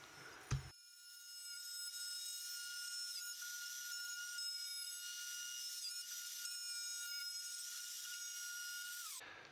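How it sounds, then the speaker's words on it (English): A wood router fitted with a 1/4-inch flush trim bit trims a glued wooden layer for a bench, starting abruptly into a steady, loud, high-pitched whine that holds for about nine seconds before cutting off. "started with this flush trim bit. It's a 1/4 inch in diameter"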